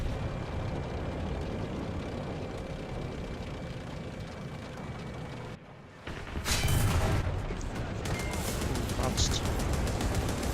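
Tank cannon fire in the War Thunder video game, with a Chieftain Mk3 engaging a T-54: a steady rumbling battlefield bed dips briefly, then a loud, sharp cannon blast erupts, followed by ongoing heavy rumble and crackle.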